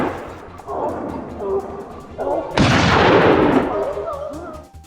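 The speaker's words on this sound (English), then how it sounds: "Two precise gunshots rang out, and the wild boar had no chance of escape." A loud burst of gunfire during a wild boar hunt in a forest, a sharp blast with a long noisy tail, following shouting voices and rustling.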